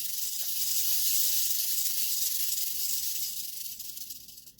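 A black-tailed rattlesnake rattling its tail, a continuous dry buzzing hiss, steady and close, fading slightly toward the end.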